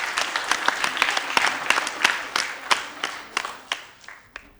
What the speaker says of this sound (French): Merci de faire beaucoup d'applaudissements pour lui.